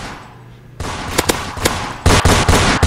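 Gunfire in the Roblox Fortnite video game, sharp loud bursts of rapid shots in two clusters over a dense game mix, no talk.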